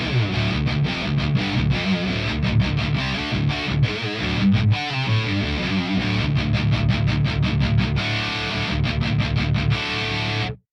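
Heavily distorted electric guitar through an amplifier set to high gain, thick crunch, strummed chords ringing loud and continuous with brief choppy gaps, loose rather than tight, no voices.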